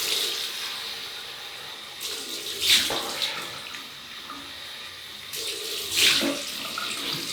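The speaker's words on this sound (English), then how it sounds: "We've rinsed with water, alumed, and now we're going to rinse that off." Water runs steadily from a tap while alum is rinsed off a face after a wet shave, a continuous hiss with two brief louder splashes as hands meet the stream.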